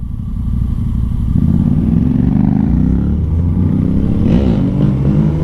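A powerful motorcycle accelerates away hard on a road while doing a wheelie, a loud sustained engine roar rising in pitch, heard from a following rider's bike.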